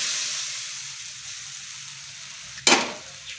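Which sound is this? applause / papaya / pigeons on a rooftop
papaya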